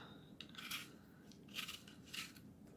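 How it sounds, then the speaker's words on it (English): An apple is peeled by hand for apple pie filling, making three soft, brief scraping strips of the blade along the skin, close but quiet with low background noise. "I just peel the apple like so,"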